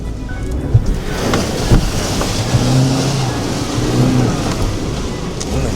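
Suzuki Jimny pushing through Kliprivier mud in second gear, its engine droning steadily with rising revs and sloshing, splashing wash all around; no voices over it.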